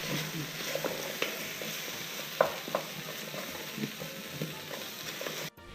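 Tomato paste sizzles and fries steadily in a pan while being stirred for German roulades, with a soft continuous crackle and occasional scraping clicks of the spoon, fairly quiet and without speech.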